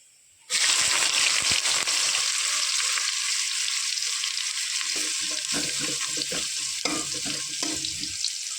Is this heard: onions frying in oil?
yes